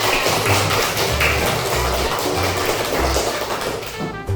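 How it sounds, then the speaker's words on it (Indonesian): A third-grade elementary school class claps hands together, a loud, close, continuous patter of many small hands with a slight tapping rhythm, lasting a few seconds. "Oke, tepuk tangan buat semuanya."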